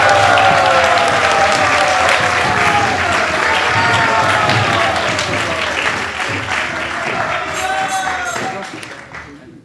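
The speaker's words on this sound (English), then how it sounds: "So let's give them a big round of applause." Loud, sustained applause from a ceremony audience honoring kitchen volunteers who cooked a feast, dense clapping with some voices mixed in, fading toward the end.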